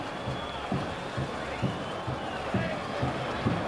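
A crowd of 18,000 spectators at a 1986 Young Boys football match against Sion gives off a broad, distant hubbub. Faint rhythmic thuds recur in the background, and voices sound throughout.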